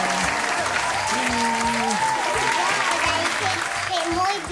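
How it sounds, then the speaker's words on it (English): Hands clapping repeatedly in rhythmic bursts at home, with a voice chanting along over the claps. "Clap your hands, clap your hands."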